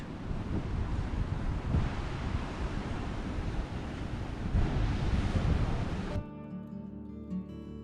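Strong wind buffeting the microphone in rough, continuous gusts, then abruptly dropping away near the end, leaving a faint tonal hum.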